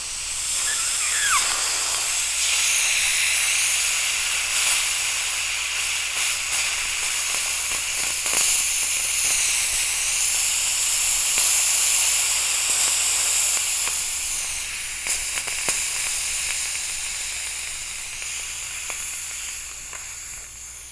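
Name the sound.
air hissing as Daystate compressor pressure is bled off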